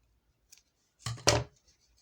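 Scissors snip through yarn on a crochet shoulder bag, two quick close cuts in a quiet room, preceded by a faint click.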